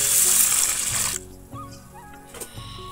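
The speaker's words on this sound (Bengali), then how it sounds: "এবার ডালটা একদম ভালো করে ধুয়ে নেব আগে" Red lentils being washed in water in a basin, a loud gush of running water for about a second, then quieter swishing and dripping as the water is stirred, close by.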